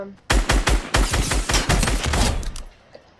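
Fortnite guns fire in a rapid run of about a dozen sharp, loud shots close together, pounding in quick rhythm before stopping abruptly.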